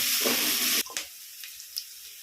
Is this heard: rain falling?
no